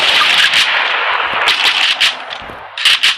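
Gunfire in PUBG, with repeated sharp shots from an AWM sniper rifle cracking out in bursts, loud and close, with brief pauses between groups of shots and no talking.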